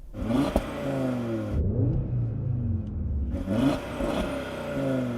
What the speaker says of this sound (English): Let's have a listen to the Audi because that 5-cylinder is sweet.